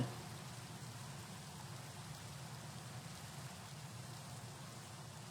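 Constant video game rain pours without a break, a dense, even hiss of falling drops that fills the whole stretch at a steady level.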